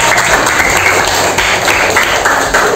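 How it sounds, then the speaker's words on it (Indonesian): A class of sixth-grade primary school students clapping their hands together in a classroom, a loud, dense, continuous burst of clapping lasting a few seconds with no talk. "Sebelum pulang, coba tepuk tangan untuk semuanya."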